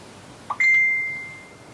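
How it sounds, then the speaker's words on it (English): A single phone notification ding rings out cleanly in a quiet room, a short bright tone that lingers and fades over about a second. "My phone, I don't know what it is."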